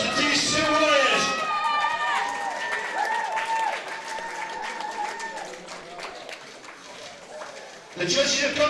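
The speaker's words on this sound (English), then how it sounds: "A big round of applause for these 2 warriors." An audience at a Night of the Gladiators fight event claps and cheers for two fighters after their bout, a loud crowd roar under an announcer's voice, swelling again near the end.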